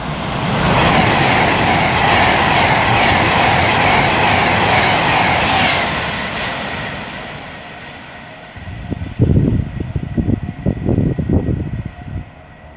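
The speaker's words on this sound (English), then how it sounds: "now approaching with 390-127 for Avanti West Coast, working 1 Hotel 71 from London Euston to Manchester Piccadilly" An Avanti West Coast Class 390 electric train, unit 390-127, passes at speed on the West Coast Main Line at Lichfield Trent Valley with a loud sustained roar that slowly fades, followed by rumbling and clattering rail noise.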